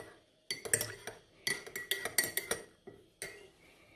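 A metal spoon stirs tea in a pan, clinking and scraping against the sides in quick uneven bursts separated by short pauses, close and clear with no voices.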